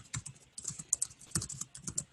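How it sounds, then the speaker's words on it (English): Fingers type on a computer keyboard in a steady close-up stream of quick clicks and taps with slight pauses, clear and moderately quiet, with no voices. "I'll just type it."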